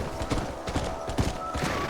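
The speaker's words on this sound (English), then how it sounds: "las pisadas de caballo son nada más como cascajo" Horse hooves in the Western video game Red Dead Redemption, a steady clip-clop of several hoofbeats on hard ground, close and rhythmic, with faint background game ambience.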